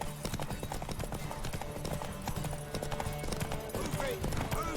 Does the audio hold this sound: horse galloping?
yes